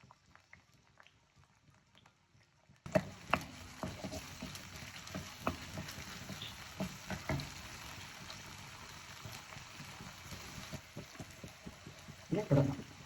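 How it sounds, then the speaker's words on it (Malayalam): Chopped onion hits hot oil in a pan for a drumstick leaves and egg stir fry: near silence, then a sudden loud sizzle that settles into a steady crackling hiss with scattered pops. "നമുക്ക് ഉള്ളിയിട്ട് കൊടുക്കാം."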